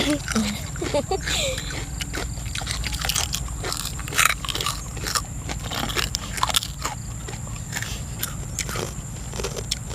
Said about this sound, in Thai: กรอบทะลุจอเลยแล้วครับเ